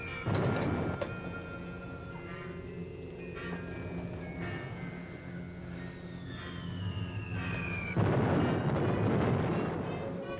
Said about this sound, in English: Bombing still make you nervous, Kurt?